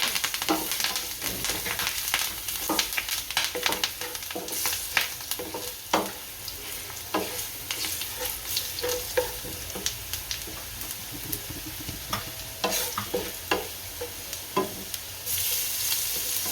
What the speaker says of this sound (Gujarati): હવે મરચાં નાખશું, આ મીઠા લીમડા પાન છે નાખશું